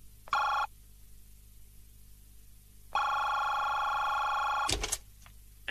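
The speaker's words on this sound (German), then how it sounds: "Doch dann klingelte wieder das Telefon." An electronic telephone bell rings twice, a short trill then a longer one, followed by a clunk as the receiver is picked up.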